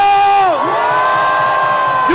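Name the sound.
rally crowd shouting and cheering on command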